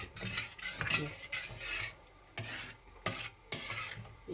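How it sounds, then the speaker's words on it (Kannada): Rice laddu mixture being stirred and kneaded with ghee syrup in a bowl, giving repeated close, soft scraping and mixing strokes in bursts with short pauses, fairly quiet and with no talk. "ಈಗ ಸ್ವಲ್ಪ ಸ್ವಲ್ಪ ಹಾಕಿ ಕಲಿಸ್ಕೊಳ್ಳೋಣ"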